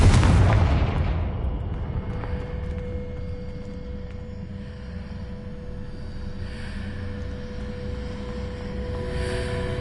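A Confringo spell explosion in Hogwarts Legacy, one loud booming blast at the start that decays into a long rumbling tail, with faint magical whooshes and ambient tones afterward.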